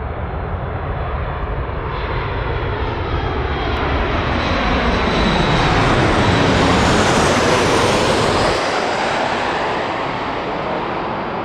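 A Boeing 737 MAX airliner from Houston lands at San Diego on runway 9, its loud jet engine roar swelling as it passes close by, then trailing off into a broad rumble, with no talk over it.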